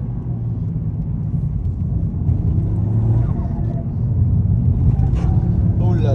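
A stage 3 tuned Toyota Yaris GR is driven hard on worn tyres, its engine a deep, continuous rumble from inside the cabin that swells toward the end, with people talking over it.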